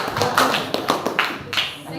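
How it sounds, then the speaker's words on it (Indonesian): A small group claps in a classroom front office lesson, a few uneven, separate hand claps and taps rather than a full ovation, with voices mixed in among them. "Oke, tepuk tangan dong, applause untuk kelompok."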